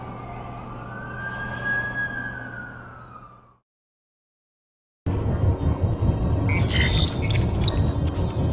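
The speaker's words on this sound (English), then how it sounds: "That's the ambulance I called." An ambulance siren wails, sweeping up and down and fading off in a Spider-Man film, then after a brief silence a rumbling, busier street scene bursts in.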